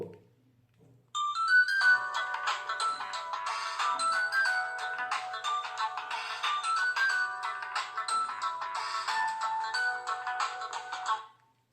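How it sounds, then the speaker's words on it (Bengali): A Nokia 1110 mobile phone plays its ringtone, a bright electronic melody of quick repeated notes that starts after a brief pause and runs continuously for about ten seconds before cutting off, heard alone and clearly. "9 নাম্বারে একটা রিংটোন অনেকেই খোঁজে, আমি সেই রিংটোনটা এখন দেখাবো"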